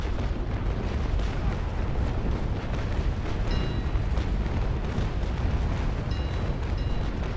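Ship cannons fire in a Naval Action sea battle, a dense, continuous rumble of booming broadsides and explosions at a steady loud level, with faint tonal game effects on top.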